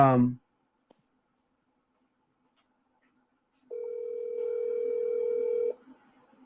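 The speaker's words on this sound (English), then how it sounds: "I tried to call Ellis, but he didn't answer" A telephone call goes unanswered: a steady ringback tone sounds for about two seconds after a brief voice and a long silence, with some faint background noise beneath it.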